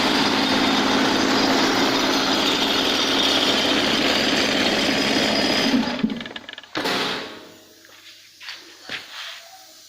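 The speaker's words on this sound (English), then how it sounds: "I'll turn off my little compressor." A small air compressor runs with a loud, rapid, chattering motor drone for about six seconds, then is switched off and falls away to quiet with a few faint knocks.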